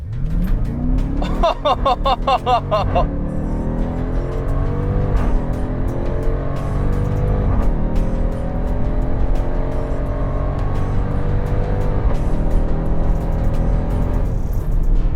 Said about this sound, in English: We're gonna go ahead and click that launch button, apply full throttle.